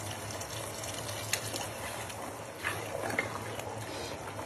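Water pours into a pan of simmering mushroom curry (mushroom do pyaza) with tomato paste, a steady broadband splashing gush under constant kitchen hum, with faint clinks of utensils.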